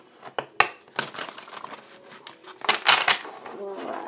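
Crisp rustling and riffling of tarot cards, several quick bursts of papery shuffling close up, with soft clacks and pauses between them.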